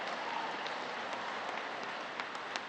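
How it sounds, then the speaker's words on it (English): Applause after a poem recitation at an evening event marking military family support anniversaries, a steady crowd clapping at moderate volume with a few sharper claps standing out. "Let him have a nice round of applause."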